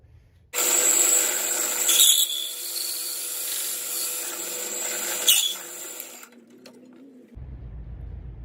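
A power tool cuts around the outside of a spoked wooden toy wheel for a model vintage car, a loud steady whining grind lasting several seconds with brief surges before it winds down and stops.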